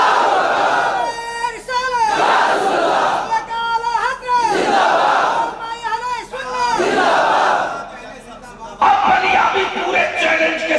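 A large crowd at a religious gathering shouts a Takbeer slogan in unison, three loud rhythmic bursts of massed voices, each swelling then stopping, followed by a noisy burst of crowd sound.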